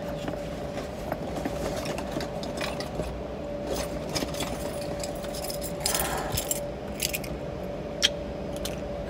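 House keys jangle in light, scattered metallic clinks against a steady hum, with brighter bursts near the middle and a sharp clink toward the end, up close and without talk.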